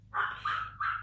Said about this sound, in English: doggy barking